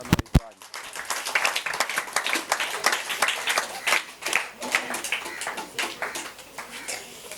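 Applause from an audience at a gathering, honoring those who care for children: a dense, steady patter of many hands clapping for several seconds, moderately loud and fairly close.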